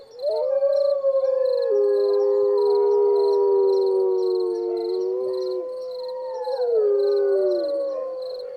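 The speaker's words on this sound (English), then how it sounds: "the woods just filled with this sound of this entire pack howling" A recording of a wolf pack howling fills the air with several long, overlapping howls that rise and fall together, loud and sustained, with a faint repeating beep in the background.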